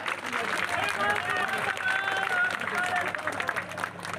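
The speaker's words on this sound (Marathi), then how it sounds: "एकदा जोरदार देवाभाऊसाठी जोरदार टाळ्या" Crowd applause at a Marathi political rally for Devabhau, dense and steady across the whole span, with crowd noise and voices mixed in.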